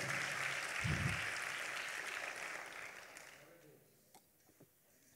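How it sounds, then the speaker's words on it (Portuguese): A church congregation applauds in a broad wash of clapping that gradually thins and fades out over a few seconds, leaving scattered claps and a voice near the end. "Pode aplaudir com força, eu espero"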